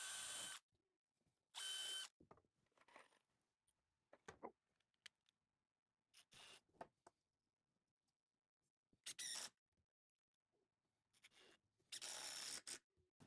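An impact driver sinks 2.5 inch screws into wood while building a quail house, loud short bursts of rapid hammering rattle separated by quiet gaps and faint handling clicks, close up with no talking.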